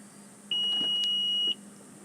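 A 2019 Honda Passport Elite AWD's rear power hatch gives a single steady, clear warning beep lasting about a second over a quiet background.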